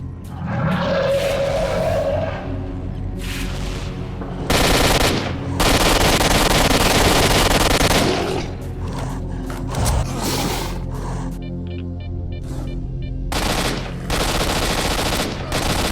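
Heavy gunfire from the horror shooter S.T.A.L.K.E.R.: Shadow of Chernobyl: loud bursts of automatic fire and single shots come in dense, irregular clusters throughout, with brief lulls and game ambience between volleys.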